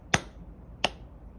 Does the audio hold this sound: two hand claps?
yes